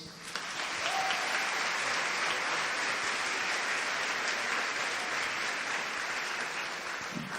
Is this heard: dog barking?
no